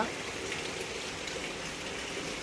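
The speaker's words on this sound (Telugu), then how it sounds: "బయట అయితే వాన బయట అయితే వాన అనమాట" Steady rain falls outside, a soft continuous hiss at low volume with no other clear sounds.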